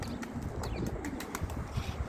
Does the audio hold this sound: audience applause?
no